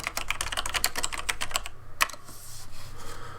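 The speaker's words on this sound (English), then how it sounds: "now I can type in a text" Quick, light keystrokes on a computer keyboard as title text is typed, a close run of clicky taps followed by a single sharper press and faint trailing clicks.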